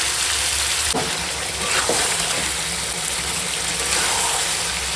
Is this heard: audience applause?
no